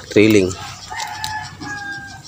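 A rooster lets out a loud crow up close, followed by softer clucking and faint bird calls in the background.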